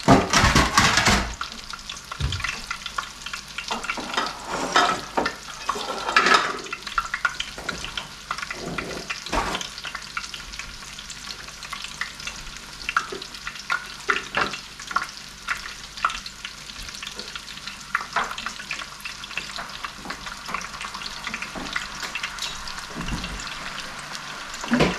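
Walleye fillets fry in bubbling butter in a frying pan, a continuous close sizzle with occasional louder crackles and utensil clatter throughout.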